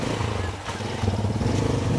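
A motorcycle is ridden nearby, its engine a continuous low rumble that swells slightly toward the end, with excited voices over it.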